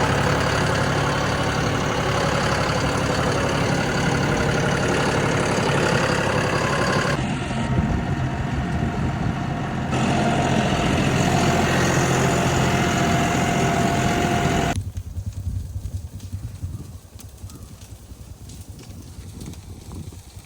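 A borrowed tractor idles on a pasture with a steady mid-range engine rumble, close and constant, then drops noticeably quieter in the last few seconds, with no talk over it.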